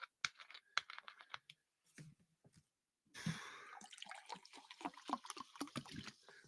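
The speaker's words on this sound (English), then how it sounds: "Seltzer pouring into a glass." Seltzer poured from a bottle into a glass, a short trickle and clinks giving way to a steady close fizz of bubbles crackling.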